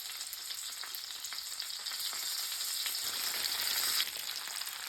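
Tomatoes frying in butter and olive oil in a seasoned pan, a steady bright sizzle that swells slightly toward the end, with no voices.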